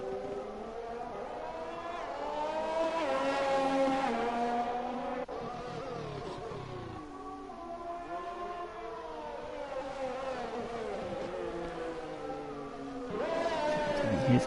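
Formula One cars run on a wet, rain-soaked Shanghai circuit in a racing video game, engines whining through rising and falling gear changes, several cars overlapping in a steady, loud drone with a fresh surge near the end.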